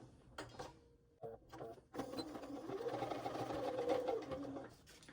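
A sewing machine stitching a straight edge on a fabric waist pack, starting with short stop-start bursts and then running in a steady, close whirring hum for several seconds.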